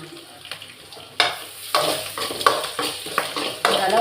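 Tomatoes sauté in oil in a pan after the onions, giving a soft sizzle under repeated scraping stirs of a spoon against the pan, near and moderately loud.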